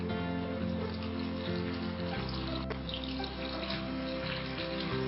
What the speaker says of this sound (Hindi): अब मैं गोश्त गलने के लिए तकरीबन 2 ग्लास पानी जो है इसमें शामिल कर रही हूँ।